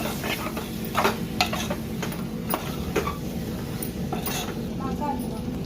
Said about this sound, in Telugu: ఒకసారి మసాలాలన్నీ మిక్స్ అయ్యేలాగా కలుపుకోవాలి.